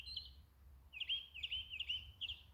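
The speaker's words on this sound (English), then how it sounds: "I guess this bird back here want to talk more than I do in the video." Bird calling in the background outdoors on a farm: a series of short, high, bright chirps repeated in quick bursts, faint and distant against low ambient rumble, with no talking.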